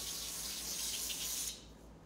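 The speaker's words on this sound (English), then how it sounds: "And then I'm gonna spray the top sheet again with the olive oil." Olive oil sprayed from a can onto a baking sheet in a home kitchen, a steady, close hissing spray lasting about a second and a half before cutting off, leaving faint background hum.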